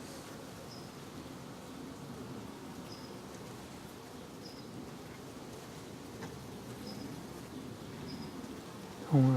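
Honeybees hum softly around a newly installed beehive, a faint continuous buzz with occasional passing insects, ending in a short louder bump.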